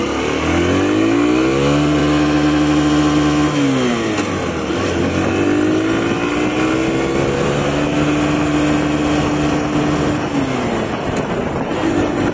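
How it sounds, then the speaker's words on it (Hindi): Hero Super Splendor BS6 2021 motorcycle accelerating hard through first, second and third gear, a loud close engine drone rising in pitch, dropping sharply at each gear change, then climbing again. "तो आ चुके हैं बाइक में, तो टेस्ट करेंगे भाई लोग कि इसका फर्स्ट सेकंड थर्ड गियर कितना जाते हैं।"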